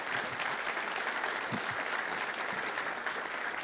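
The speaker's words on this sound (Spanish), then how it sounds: "dele un aplauso al Señor" A church congregation claps together during a Spanish-language sermon, a steady, moderately loud burst of many hands with a faint murmur underneath.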